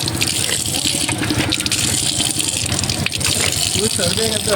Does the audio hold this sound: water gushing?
yes